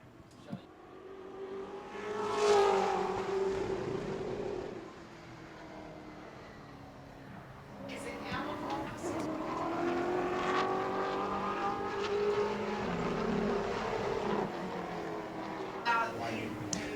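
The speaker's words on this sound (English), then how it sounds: "this is Jimmy Renfro as he completes lap number 1" A Pro Late Model race car engine roars past during qualifying at New Smyrna, rising and fading as it accelerates and shifts, with a crowd and announcer audible underneath.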